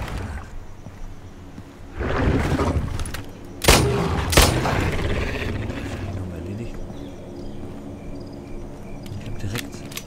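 Pistol shots in the Nether video game, two sharp loud cracks a fraction of a second apart amid busy game noise, with a broader burst just before them.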